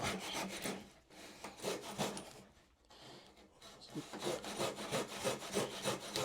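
Handsaw resawing a board of wood, close rhythmic rasping strokes with a short pause midway before the steady back-and-forth sawing resumes.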